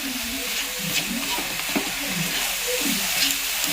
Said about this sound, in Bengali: এটা আমি একটু নাড়াচাড়া করতে করতে সতে করবো 2-3 মিনিট